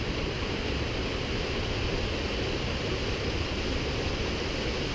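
A waterfall roars in an unbroken wash of broadband noise, loud and close, holding steady without pause and with no voices over it.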